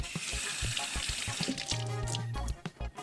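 Chicken of the woods mushroom (Laetiporus cincinnatus) gets a good rinse under running water, a steady splashing wash with a few knocks and clatters, close by and fairly loud, ending in choppier bursts.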